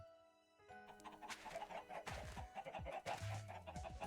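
Chickens cluck in Minecraft: a few short, close fowl calls sound quietly over faint background tones, with no talking.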